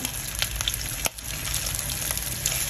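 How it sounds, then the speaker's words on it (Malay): Prawns frying in a hot pan give a steady, dense sizzle with crackling pops and one brief dip in the hiss, close and fairly loud with no talk. "just put in the prawn. We goreng a little bit with the prawn."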